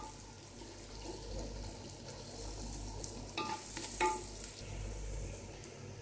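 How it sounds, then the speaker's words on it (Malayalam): Masala being stirred while frying in a pan for fish curry, a steady sizzle with scraping stirs and occasional clinks, close and moderately quiet with no talk. "അത് നല്ലതുപോലെ അങ്ങ് മിക്സ് ചെയ്യണം."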